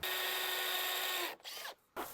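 A power drill whirs at a steady high pitch while drilling during an under-cupboard lighting installation, then winds down, revs briefly again, stops, and starts once more, close and fairly quiet.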